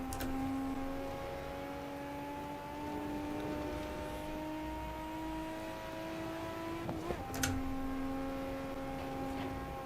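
A car engine drones steadily while driving on the Nordschleife in the racing game Assetto Corsa (Japanese Pack DLC). Its pitch climbs slowly, then drops sharply with a brief crackle as the gear shifts, and the rising tone starts again.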